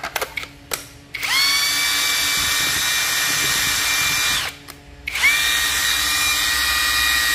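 A cordless impact wrench with a brushless motor and large 10-cell battery runs in two steady high-pitched whirring bursts, each a few seconds long, separated by a short pause, loud and close with no talking.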